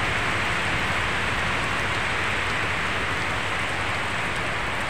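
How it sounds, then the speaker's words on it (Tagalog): Heavy rain pours down in a dense, unbroken hiss, steady and loud, with no voices. "Thank you Lord sa ulan na binibigay niyo sa amin"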